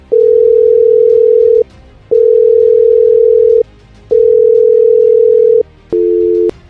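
A phone call ringing out over and over with no answer: long steady electronic tones in a regular on-off pattern, loud and close, with no voices.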